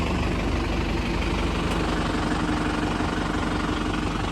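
A crop sprayer's engine runs steadily and loud up close, a dense low rumble with a constant idling drone that holds through the whole stretch with no voices.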